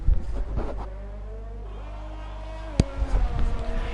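A Formula 1 racing car engine on circuit at the Australian Grand Prix in F1 2020 drones steadily at a constant pitch, with a sharp click partway through and no talk.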